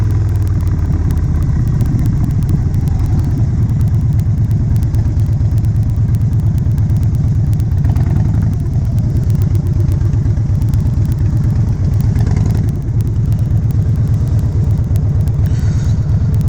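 A Harley-Davidson Wide Glide idles in traffic with a loud, steady, close rumble that continues throughout, with no talking.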